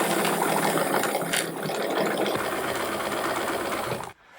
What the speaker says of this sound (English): We are going to sew this into a tube